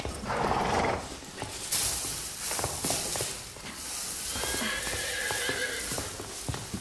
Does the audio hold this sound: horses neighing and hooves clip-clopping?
yes